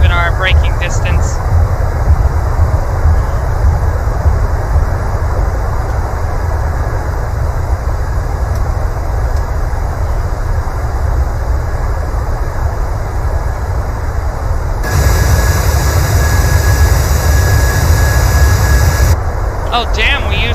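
Boeing 737-800 in the PMDG flight simulator rolling out after landing with reverse thrust, a loud continuous broadband jet roar that holds steady for about twenty seconds, swelling slightly near the end.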